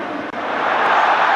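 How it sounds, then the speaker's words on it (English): Football crowd roaring in the stands at a Steaua Bucharest versus Middlesbrough UEFA Cup semi-final, a loud, broad, continuous wash of massed voices that builds slightly over a brief stretch. "And the crowd are roaring here, they can sense something on."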